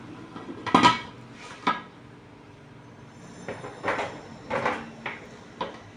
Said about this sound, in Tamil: மூடி இப்போ வெயிட் போட்டுக்கலாம்.